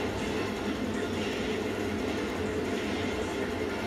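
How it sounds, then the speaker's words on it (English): Loud, steady subway train rumble and roar in the TMNT: Out of the Shadows arcade mode, a continuous rolling rail noise filling the space with no talk. "The subway is so loud."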